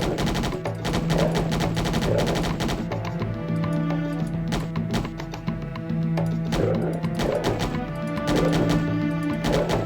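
Sustained bursts of gunfire from armor-piercing bullets in the DOS/3DO game Corpse Killer, rapid repeated shots over a droning in-game soundtrack, loud and continuous throughout.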